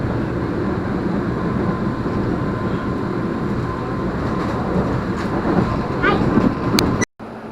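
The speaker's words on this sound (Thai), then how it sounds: "รถไฟมาจอดแล้วที่ ทามาเซ็นเตอร์" A train rumbles loudly into a station with continuous rolling noise and faint clatter, then the sound cuts briefly near the end as it comes to a stop.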